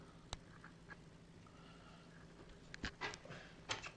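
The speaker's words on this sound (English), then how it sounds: "Yep, that was my dog." A dog pants and makes small whimpering and snorting noises close by, a few sharp clicks and short breathy bursts over a quiet hum, faint and irregular.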